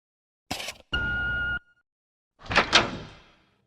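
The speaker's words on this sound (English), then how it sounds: "when I heard the door opening." A hotel room door opens with a short clatter, a brief mechanical whir of the key card lock, then a louder rattling swing of the door, close and clear in a quiet room.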